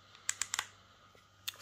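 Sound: clicking adjustment lever of VGR V682 hair clipper

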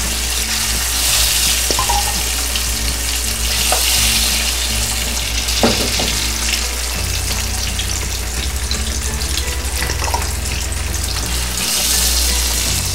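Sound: chicken frying in oil

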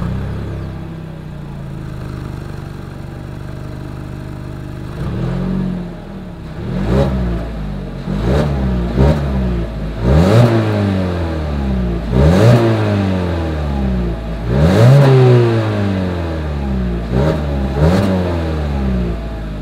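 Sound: 2020 Mazda CX-3 4-cylinder dual exhaust revving

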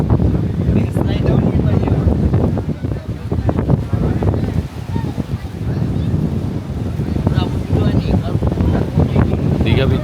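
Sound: strong wind at Digha beach at night

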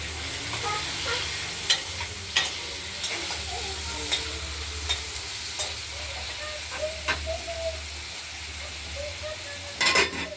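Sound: potatoes being fried in oil in a wok

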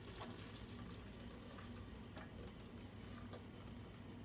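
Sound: pouring hot mixture into bowl of eggs, sugar and cornstarch

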